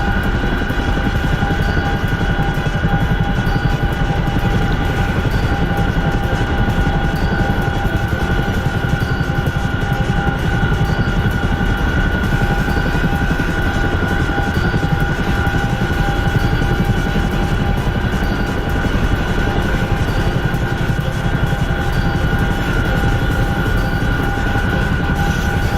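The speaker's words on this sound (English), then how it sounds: "we're in the Chinook right now" Inside a Chinook helicopter in flight, a loud, constant roar of engines and rotors fills the cabin, with a steady high whine and a faint rhythmic rotor pulse running unbroken throughout, with no voices.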